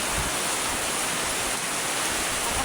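Heavy rain pours down in strong wind, a dense, steady hiss of falling water that fills the whole short stretch without a break.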